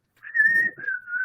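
One person whistles a short, steady pitched tone of about a second that dips slightly midway, close and clear, with nothing else heard.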